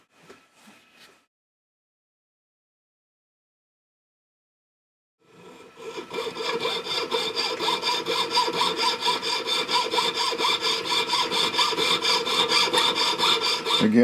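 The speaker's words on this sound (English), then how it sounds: "just let the weight of the saw do this." Hand saw cutting through the middle knuckle of a silver locket, a steady, rapid rasping back-and-forth stroke that starts after a brief scrape and near-silence, then runs on loud and close.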